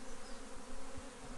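Honey bees at an open beehive make a close, continuous buzzing drone that stays steady and moderately loud throughout the short stretch, with no voices.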